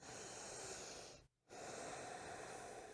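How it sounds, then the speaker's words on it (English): A long, breathy exhale during a breathwork session, steady and close for over a second, then a brief pause and another sustained airy breath. "And exhale."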